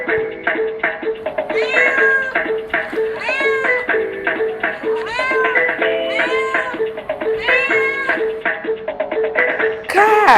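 A cat meows again and again, with a series of loud, close, drawn-out cries that rise and fall in pitch and come at a fairly steady pace.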